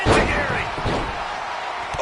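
A heavy slam of an enzuigiri kick landing in the WWE 2K20 wrestling game, one loud thud at the start over a roaring arena crowd, with a commentator talking as the noise continues.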